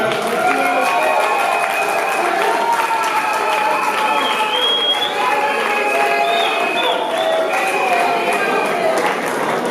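A wedding audience bursts into loud, sustained applause and cheering that fills the hall, with shouts and voices mixed into the dense clapping throughout.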